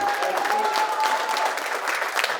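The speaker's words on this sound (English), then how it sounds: "So please give a big round of applause to Assemblywoman Gina Saletti." Steady applause from a crowd at a political campaign event, dense clapping filling the whole moment without any talking over it.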